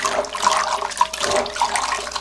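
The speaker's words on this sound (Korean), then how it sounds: "이런 거는 물로 이렇게 씻어야지 이렇게 잘 벗겨지거든요" Peeled garlic cloves are rubbed and swished by hand in a bowl of water, giving close, busy splashing and sloshing with small watery clinks throughout.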